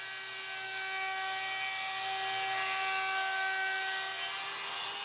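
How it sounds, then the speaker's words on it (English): A trim router rounds a 1/4 inch bull nose along an MDF edge, a loud, constant high-pitched whine held without a break from start to finish. "all I'm going to do is run a 1/4 inch bull nose down the full length using a trim router."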